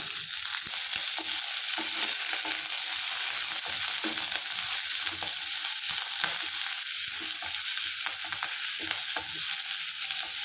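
Green chillies, onions and curry leaves sautéing in a pan, with a continuous bright sizzle broken by frequent scraping stirs of a spatula, close and fairly loud, no talking.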